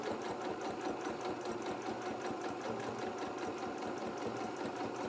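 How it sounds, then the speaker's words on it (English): A sewing machine stitches steadily through six layers of fabric while making a baby bib, a continuous, close, even mechanical whir with rapid repeating needle beats throughout. "give your machine some time because it is going through 6 layers of fabric"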